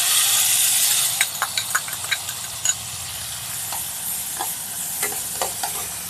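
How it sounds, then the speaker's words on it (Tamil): Chopped onions tip into a pan with fenugreek seeds and curry leaves for a fish gravy, hissing in a steady sizzle while a spoon stirs them, scraping and clicking against the pan in short taps. "இப்போ வந்து வெங்காயம் போட்டுக்கலாம்."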